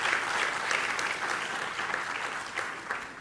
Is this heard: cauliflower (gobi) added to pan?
no